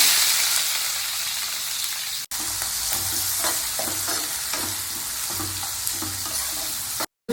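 Chopped onions sizzle and fry steadily in hot oil in a pan for a hotel-style chicken leg curry, with soft scraping stirs over a constant hiss and no talking.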